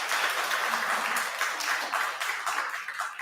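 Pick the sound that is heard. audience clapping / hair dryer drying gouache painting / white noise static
audience clapping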